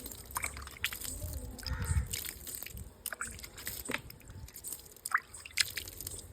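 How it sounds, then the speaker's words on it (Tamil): Water is lightly sprinkled over freshly planted seeds in damp soil, giving soft scattered drips and patters, quiet and close, with faint outdoor background noise. "இதில் விதையெல்லாம் ஊனி வச்சு லைட்டாக தண்ணி தெளிச்சுடுவோம்"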